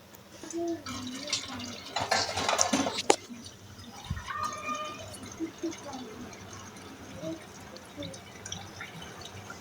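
Water is poured from a plate into a cooking pot of beef nihari, splashing and trickling in a short burst, with dripping and clinking against the container, then quieter kitchen sounds continue.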